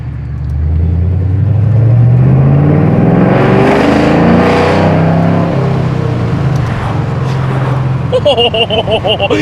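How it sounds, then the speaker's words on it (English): A straight-piped V8 Ford Mustang GT pulls hard in second gear, its loud, rising exhaust roar building steadily and dominating the cabin for most of the stretch before easing toward the end, with voices talking over it. "It's just a straight piped V8, bro."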